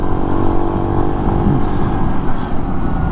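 A 2015 Skyteam Skymax 125 monkey bike ridden through a braking test, its small engine droning steadily and loudly under heavy road and wind rumble.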